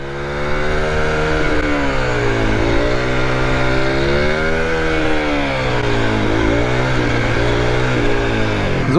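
An Aprilia SX 125 motorcycle in first gear during wheelies, its small single-cylinder engine revving in repeated rising and falling surges, loud and close, with no talking.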